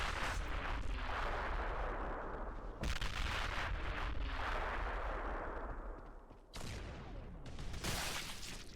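Imperial Guard artillery pieces firing in a Warhammer 40k mod battle, a rolling series of loud, heavy booming blasts and roaring explosions that crash in one after another, with sharp new detonations near the start, around three seconds and again near six and a half.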